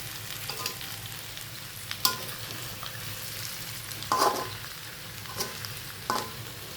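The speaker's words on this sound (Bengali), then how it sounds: "জিরার গুঁড়াটা দিয়েছি, মেরে মিক্স করে দিলাম" Curry simmering on low heat as cumin powder is mixed in, a soft continuous sizzle broken by several sharp spoon scrapes and clacks against the pan, close by, with no voices.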